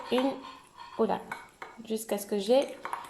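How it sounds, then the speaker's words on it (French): A spoon stirring homemade play dough in a small bowl, clinking and scraping against the sides in short bursts while someone talks over it. "je vais mélanger, touiller jusqu'à ce que j'ai"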